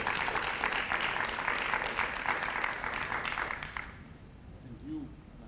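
An audience at a Cirque du Soleil press conference claps for several seconds, a steady close patter that stops abruptly, leaving quiet room tone and a faint voice afterward.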